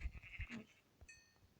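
Sheep bleat once up close on a farm, a short wavering cry ringing out after a burst of low knocks and scuffles, with no talk over it.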